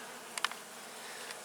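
Bees come and go at a trap box, giving a faint steady hum with a few brief louder buzzes as individual insects fly past close.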